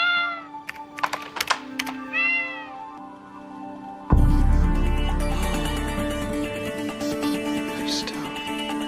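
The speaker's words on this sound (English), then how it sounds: "I'll make the cat sing! Singing cat hologram!" Cartoon cat hologram singing: a run of short, bright meows and sung mews close up, then a sudden loud burst of dense music and noise takes over.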